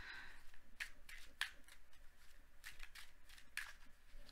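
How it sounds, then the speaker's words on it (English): Quiet, close crisp flicks and soft riffling of cards being shuffled, arriving in irregular bursts with brief pauses between. "Shuffling for quite some time"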